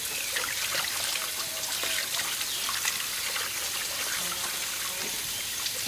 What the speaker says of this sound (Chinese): 再要把这个生菜也洗干净